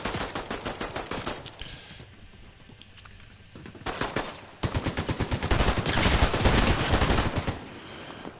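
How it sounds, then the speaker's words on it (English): Rapid automatic gunfire rattles in a video game, close and loud, with dense bursts at the start, a brief quieter lull, then longer sustained volleys toward the end. "who's shooting at me?"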